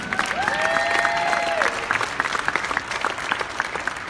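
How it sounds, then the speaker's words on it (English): An audience applauds at a horror film Q&A at a Monsterpalooza convention, a dense continuous clapping that fills the room, with a few voices and a brief whistle over it. "let's give them a big round of applause once again"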